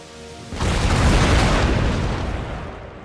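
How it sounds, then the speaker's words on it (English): Rockets launching at enemy artillery in the Empire: Total War game, a loud booming whoosh that bursts in suddenly after a faint start and sustains as a dense rumbling roar before tapering off. "I do like when the rockets go. So they're going after the enemy artillery."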